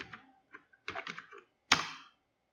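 Keys clacking on a computer keyboard as VBA code is typed, in short bursts of quick close taps separated by pauses, with one louder cluster near the end and no talking.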